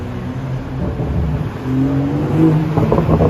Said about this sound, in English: Oh, look at you, Mr. BMW. M5.